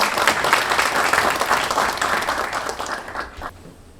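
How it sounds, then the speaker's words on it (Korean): Audience applause at a launch ceremony for a Korean university's Glocal University project team and regional network council, a dense burst of clapping that stays strong, then thins and fades toward the end. "다시 한번 큰 박수 부탁드리겠습니다"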